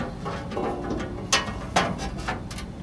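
Bolts threaded back into the auger housing of a Husqvarna two-stage snow blower after fitting a new scraper blade: faint close mechanical ratcheting and clicking, with two sharper metallic clicks standing out, no talk.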